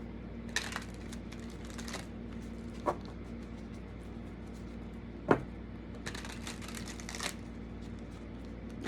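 Tarot cards, a Thoth deck, shuffled softly close by, with quiet riffling and a few sharper snaps and taps scattered through an otherwise hushed room.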